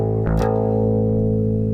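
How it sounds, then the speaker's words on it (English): A guitar effects unit with its crunch knob turned up gives a thick, compressed, distorted sustained tone, loud and steady, with a brief burst of brighter attack near the start and no talking. "adds some distortion, but it seems to add a lot of compression"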